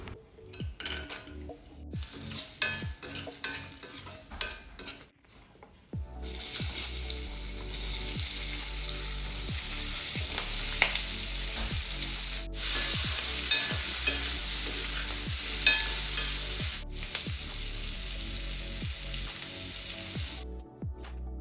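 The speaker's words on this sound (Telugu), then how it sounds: "ఆయిల్ కొంచెం హీట్ అయిన తర్వాత కొద్దిగా పసుపు, క్యాష్యూస్, దాంతోపాటు 2 బిగ్ సైజ్ ఆనియన్స్ని అలాగే 1 స్మాల్ సైజ్ టొమాటోని కట్ చేసుకొని ఇందులో వేసేసుకోవాలి" Turmeric, cashews, sliced big onions and a small tomato fry in hot oil with a dense crackling sizzle, repeated spoon-against-pot scrapes and clinks, and a few short pauses where the sound cuts out.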